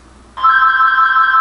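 A telephone bell starts ringing abruptly and continues as a loud, steady electronic trill, with no one speaking over it.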